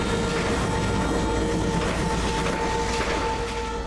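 A train rolls past in the Red Dead Redemption video game, a loud, steady rumble with a constant whistle-like hum over it, holding even throughout with no talk.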